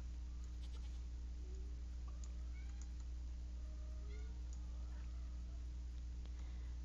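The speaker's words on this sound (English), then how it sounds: "Chell, you're loud. And mouthy. She's a mouthy cat anyway" A female cat in heat in the Stardew Valley Expanded farming game gives a string of short, faint meows, spaced irregularly over a low steady hum.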